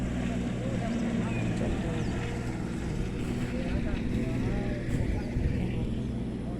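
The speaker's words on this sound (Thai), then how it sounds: "แต่เสียงเครื่องตัดหญ้าแกดังมากฟังนะคะ เสียงเหมือนเฮลิคอปเตอร์" A loud small engine drones steadily, a lawn mower's buzzing hum, while someone talks over it.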